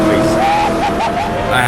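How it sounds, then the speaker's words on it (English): Race car engine roars loudly up close as another car passes and slides fully sideways, a sustained rising and falling whine with skidding tyres. "This guy passes me and goes full sideways."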